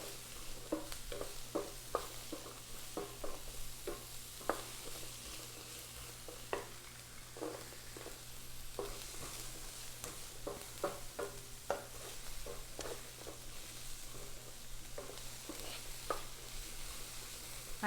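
Carrots and zucchini sizzle in sesame oil in a pan, a steady quiet hiss of frying under frequent sharp clicks and scrapes from stirring, with no voices.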